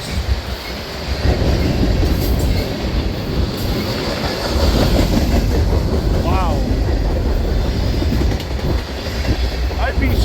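A freight train hauling tank cars rolls past in Durand with a loud, continuous rumble and rattling clickety-clack of wheels, plus a brief squeal; a spectator briefly exclaims.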